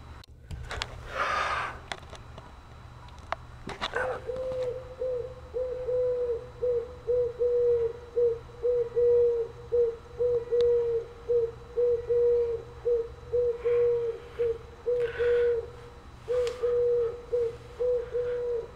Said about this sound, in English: Is there an owl in my chimney?